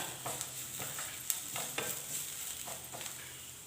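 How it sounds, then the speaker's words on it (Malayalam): Coriander powder and chicken masala sautéing in a pan, a soft steady sizzle with a few light, spaced stirring scrapes, fairly quiet and close. "ഒരു ടീസ്പൂൺ മല്ലിപ്പൊടി ഒരു ടീസ്പൂൺ ചിക്കൻ മസാല ഇത്രയും ചേർത്ത് നന്നായിട്ടൊന്ന് വഴറ്റിയെടുക്കാം"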